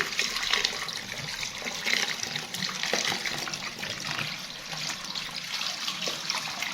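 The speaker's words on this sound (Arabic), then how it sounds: "شطف كامل، شطف كامل." Running water rinsing a protein treatment out of hair, a steady close splashing flow like a tap or shower, continuous and fairly loud throughout with no speech.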